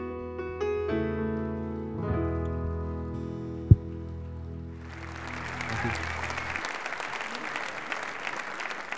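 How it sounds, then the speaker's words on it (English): A song's final sustained chords ring out and fade, then an audience bursts into full, dense applause that keeps going strongly to the end. "the rapture is applause at every song"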